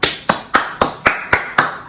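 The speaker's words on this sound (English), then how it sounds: "a round of applause" Seven sharp, evenly spaced claps ring out in quick succession, close and fairly loud, with no talk over them.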